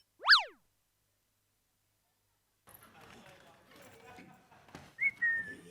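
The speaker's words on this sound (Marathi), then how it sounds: "मी इथेच आहे, शिट्टी का वाजवताय?" A person whistles on a comedy stage set in an office: one sharp swooping whistle blast, then a pause, then a short shrill whistle near the end amid light stage noise.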